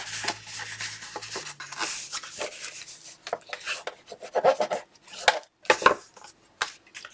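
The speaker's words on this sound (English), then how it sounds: "we're going to put the 10 inch at the top and score each one in half at 5" Paper being scored and folded for a Graphic 45 Seas the Day craft album, with repeated close rubbing and rasping strokes of a scoring tool, light taps and crisp creasing sounds, alone and without talk.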